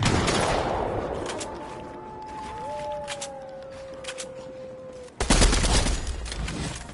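Gunfire in the battle royale game Fortnite, a burst of shots at the start, scattered faint shots with a tonal whine in between, then a loud sudden volley of rapid fire near the end.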